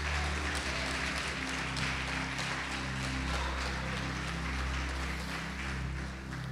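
A church congregation applauds at a service, a soft, distant patter of clapping that runs evenly under a low hum with no speech on top.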